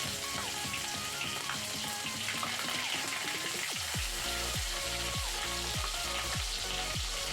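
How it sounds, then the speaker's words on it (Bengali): Sliced onions fry in a kadai for an eggplant and cauliflower curry, a steady loud sizzle with crackling, spitting oil, and several stirring scrapes and knocks in the second half. "এবার তো কড়াইতে পেঁয়াজ দেওয়া হয়ে গেছে, পেঁয়াজ ভালো করে ভেজে নিন"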